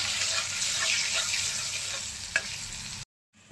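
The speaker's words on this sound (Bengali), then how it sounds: "এখন ভালো করে ভেজে নেবো নাড়িয়ে দিয়ে" Potatoes frying in oil with salt and turmeric give a dense, steady sizzle up close, with one sharp clink as they are stirred before the sound cuts off abruptly.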